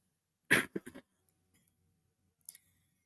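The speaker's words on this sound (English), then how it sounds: "I'm sick and tired of having the cough." A single harsh cough up close, followed by quiet and then a short faint throat sound a couple of seconds later.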